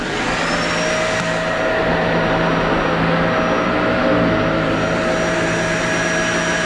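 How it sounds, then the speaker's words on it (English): A full-size household vacuum cleaner powered from a Redodo LiFePO4 battery runs loud and steady, its motor whining at a constant pitch close to the recorder without pause. "Can this Redodo battery run a full-size household vacuum cleaner?"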